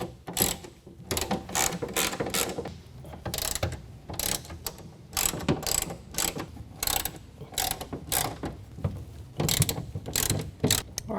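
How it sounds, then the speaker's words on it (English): Clicking ratchet bursts from a T30 Torx bit backing out the bolts that hold the deck rail system to the side of a 2022 Toyota Tundra truck bed, arriving in rapid repeated runs with short pauses and no talking. "Those are going to come out using a T30 Torx bit."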